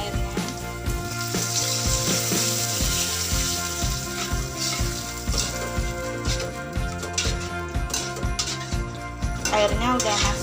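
Loud, steady sizzling as water is poured into spices frying in hot oil, crackling and bubbling continuously with faint stirring underneath.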